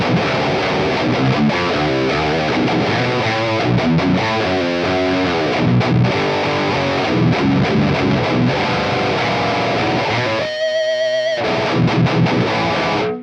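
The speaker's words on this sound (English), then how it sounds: "Now let's check out Synergy's take on the Mesa Boogie Mark II C+." Electric guitar played through a Synergy preamp module modeled on the Mesa Boogie Mark II C+, heavily distorted chugging riffs and sustained chords, loud and dense, with a brief choppy palm-muted break near the end before the riff returns.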